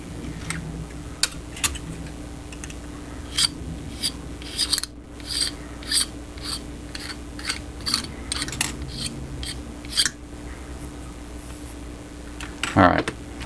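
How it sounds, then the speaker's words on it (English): Scraping the edges of a plastic model kit part with a blade, a series of short, close rasping strokes in an irregular rhythm over a steady low background hum, with a person talking between strokes. "I'm just going to scrape down the front edges so that ends up being nice and clean"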